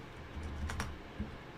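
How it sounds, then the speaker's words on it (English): A few soft, close keystrokes on a computer keyboard, brief and quiet over a steady background hiss. "Let's type in, what does it mean?"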